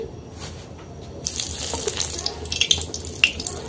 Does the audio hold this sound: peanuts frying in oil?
yes